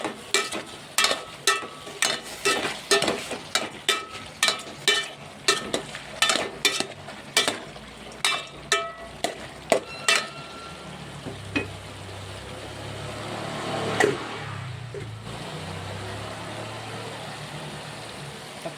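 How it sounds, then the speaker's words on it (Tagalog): A spoon stirs chopped tomatoes into broth in a cooking pot, giving a steady run of close scraping knocks about twice a second, then settling into a quieter low simmering hum. "Saka natin haluin."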